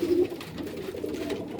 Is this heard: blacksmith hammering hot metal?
no